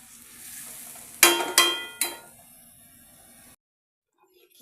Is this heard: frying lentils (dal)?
yes